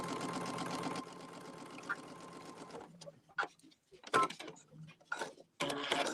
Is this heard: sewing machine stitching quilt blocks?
yes